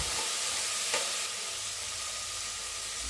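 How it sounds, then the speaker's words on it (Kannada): Potato and eggplant chunks fry in oil for a pigeon pea sambar, giving a steady, close sizzle with a brief stir or clatter near the one-second mark and no voices. "ಇದು ಕೂಡ ಎಣ್ಣೆ ಬಿಡೋವರೆಗೂ ಫ್ರೈ ಮಾಡಿ."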